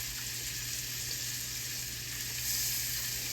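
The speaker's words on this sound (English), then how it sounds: "when we blacken something, I like to put it right on the butter" Blackened fish sizzles steadily in melted butter in a hot pan, a continuous close frying hiss with no talking.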